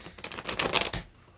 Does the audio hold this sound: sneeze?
no